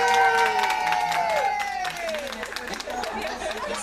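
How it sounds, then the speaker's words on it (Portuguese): A crowd at a birthday tribute celebration in Ponte Rasa, São Paulo, claps and cheers, with chatter and some laughter mixed in, while music or a sustained tone fades at the start. "Aplausos para Simone, pessoal."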